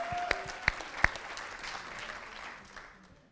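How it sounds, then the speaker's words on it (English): Applause from an event audience thanking the sponsors, a few sharp close claps at the start followed by a softer spread of clapping that gradually fades away. "let's give them a big round of applause for that."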